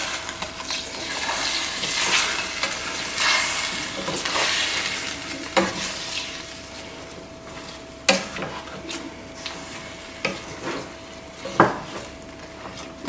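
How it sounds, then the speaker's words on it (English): A spoon stirs mutton curry in a pot with whole spices, garlic, ginger, yogurt and water, giving a steady wet scraping and sloshing, with a soft sizzle beneath and a few sharp clinks of metal against the pot. "Trying to incorporate all the ingredients by stirring."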